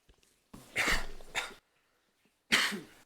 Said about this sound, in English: I did not cough in my hand that time